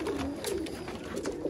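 Sialkoti pigeons coo close by in soft, rolling, repeated calls over a light background hum.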